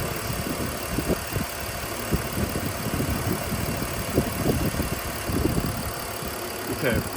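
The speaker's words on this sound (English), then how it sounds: "So you probably can't hear how well the engine's running" A 2003 BMW 330i E46 ZHP engine runs at a steady idle, giving a continuous low rumble with soft, irregular pulses throughout.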